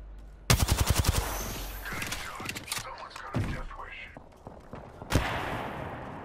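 Gunfire in Apex Legends: a loud rapid burst of about eight shots, then scattered game sounds and a voice, ending with another sharp close shot.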